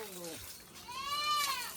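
A young goat kid bleats once in a village setting, a wavering cry that is close and moderately loud, preceded by a brief higher call.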